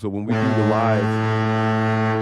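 A deep, sustained foghorn blast played as a sound effect, loud and steady for about two seconds after a man's brief spoken words at the start.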